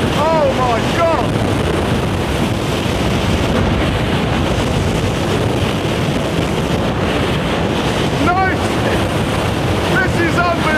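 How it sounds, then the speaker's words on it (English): Storm-force wind near 60 mph roars without letup, loud and close, buffeting the microphone, with brief strained cries breaking through the gale. "60 miles per hour, that's classed as storm force. And that's the sort of wind speed when you start getting trees uprooted."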